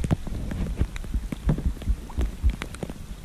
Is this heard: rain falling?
yes